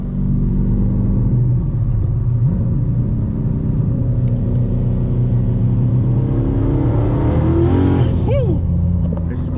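A 1,200 hp Dodge Challenger Hellcat accelerates hard with its tires spinning, producing a loud, close, continuous engine roar with rising and falling revs and a sharp climbing whine near the end.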